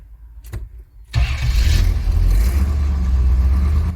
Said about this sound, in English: When the system has filled with wood gas, the engine can be started,